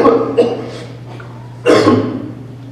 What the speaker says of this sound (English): a deep, masculine cough